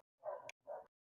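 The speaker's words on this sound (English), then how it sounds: "very loud dogs" Two short, loud dog barks in quick succession, each a clipped burst followed by silence, with no other sound around them.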